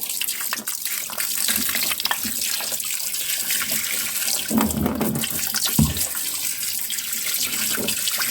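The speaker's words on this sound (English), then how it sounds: "splash a bit of petrol over it." Petrol splashed over a Mercedes C55 722.6 transmission valve body sitting in a container: a close, continuous wash of pouring and splashing liquid that lasts the whole stretch, with a few heavier sloshes.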